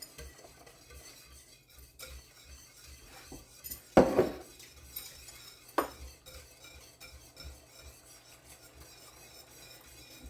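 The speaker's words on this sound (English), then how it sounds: "Just stir it, and as it cooks, it'll thicken up a bit." A thickening broth slurry is stirred in a pot, giving quiet continuous scraping and rubbing with two louder utensil clanks against the pot, no talk.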